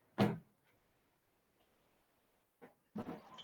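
Indoors, a door is handled and opened for a dog, with a sharp knock or latch click at the start, near silence, then a softer bump and a louder rattling clatter near the end.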